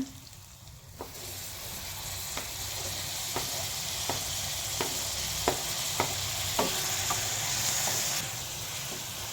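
Browned onions frying in a pan with tomato for palak chicken: a steady hiss swells in after a brief quiet start, punctuated by regular spatula taps as it is stirred, then drops away near the end.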